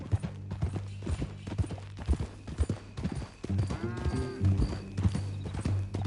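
Horse hooves clip-clop in the video game Red Dead Redemption II, a series of crisp, close hoof strikes in uneven rhythm, joined by creaking tack and a low musical drone.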